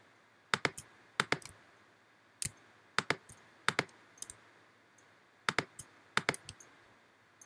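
Computer mouse clicks come in quick pairs and triplets at irregular intervals as colors are picked with an eyedropper tool, crisp and close against a quiet background.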